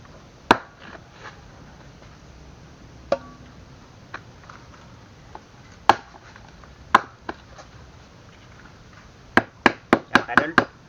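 Meat is chopped on a cutting board in sparse knife strikes, single sharp thuds spaced apart, then a quick run of several chops near the end, close and fairly loud over a quiet room.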